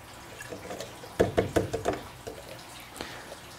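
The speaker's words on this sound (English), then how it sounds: "I'm going to pour that into my tank." Liquid poured into a film developing tank during C-41 color negative processing, about 500 milliliters, with a short cluster of sharp knocking splashes near the middle and quiet room tone before and after.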